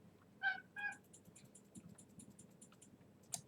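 A cat meows twice in quick succession, close and clear, over soft keyboard typing and mouse clicks during a Diablo 3 computer game session.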